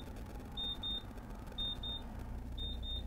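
Warning beeps inside a luxury RV coach, three pairs of short high electronic chirps spaced evenly over a quiet low road rumble.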